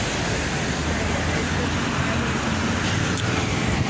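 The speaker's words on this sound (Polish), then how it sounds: "Ile tutaj samochodów jeździ." Dense London street traffic with passing cars, a loud unbroken roadway roar close by, the steady wash of engines and tyres filling the scene.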